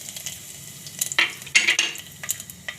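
Fenugreek seeds, curry leaves and cloves hit hot oil in a pan for a split mung dal curry, bursts of crackling sizzle with light stirring and utensil clinks, close and fairly loud.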